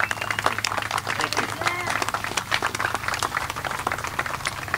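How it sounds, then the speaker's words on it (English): An outdoor crowd at a Memorial Day parade ceremony in Dunkirk, New York claps steadily and fairly loudly, with scattered voices and a low hum mixed in. "Round of applause, please join me."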